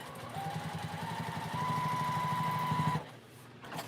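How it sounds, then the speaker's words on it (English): A sewing machine stitches a project case, its needle chattering in a fast, steady mechanical rhythm with a thin whine for about three seconds before it stops abruptly. "So we're just going to keep sewing and sewing."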